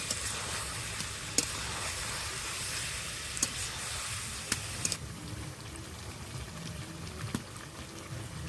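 Chicken curry meat sautéing in a pan after a splash of spice-rinsing water is added, a soft steady hiss and bubbling sizzle with a few small clicks, quiet and close.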